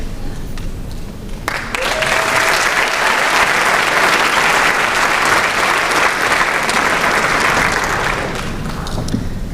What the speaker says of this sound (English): can we please have another huge round of applause for the class of 2015 as they re-enter the stage